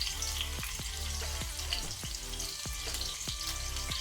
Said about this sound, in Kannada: ಸ್ವಲ್ಪ ಲೋ ಫ್ಲೇಮಲ್ಲಿ ಫ್ರೈ ಮಾಡ್ಕೊಳ್ಳೋಣ